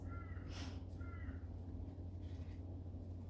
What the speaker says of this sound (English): The crows are going off out there.